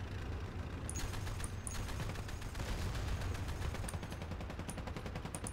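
Rapid bursts of mounted machine gun fire in Battlefield Play4Free crackle continuously over a dense, rumbling background, with sharp repeated clicks throughout; helicopters taking off from an American aircraft carrier are being shot at.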